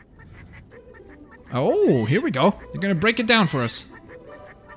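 Cartoonish birds honk and quack in Skylanders Trap Team, a loud burst of warbling, squawking calls after a voice speaks.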